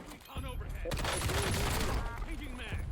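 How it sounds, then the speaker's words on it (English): Gunshots in Call of Duty Warzone on Rebirth Island, a dense flurry of rapid shots fired close and loud with a weapon fitted with JAK attachments, with a voice speaking underneath. "We had 13 shots, and that was all 13 of them right there."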